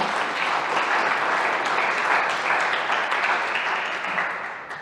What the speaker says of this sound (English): Let's give applause for that, because that is amazing as well.